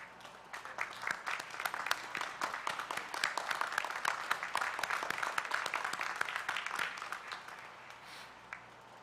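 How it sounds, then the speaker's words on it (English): Sustained applause from a commencement audience at a Purdue University Northwest spring ceremony honoring the faculty, a dense crackle of many hands clapping, moderately distant, building then tapering off. "I invite the members of our hardworking faculty to stand and be recognized with your applause."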